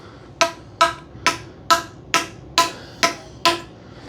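A hammer taps pipe tee fittings into place: eight sharp, evenly spaced metallic knocks, close and loud, each with a brief ringing decay.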